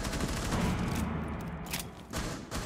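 Gunfire in the Rainbow Six Siege video game rattles in dense, continuous bursts, loud and close, with a couple of sharper cracks standing out near the end.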